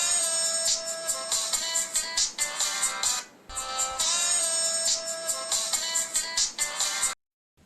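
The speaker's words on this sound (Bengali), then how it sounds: "এতক্ষণ ধরে ফোনটা বাজছে" A phone rings repeatedly in a steady electronic pattern, loud and close, pausing briefly midway, then stopping abruptly.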